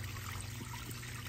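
A small rock waterfall, dug out by hand, runs into a garden creek pond, a faint, steady trickle and splash heard close by with no voices.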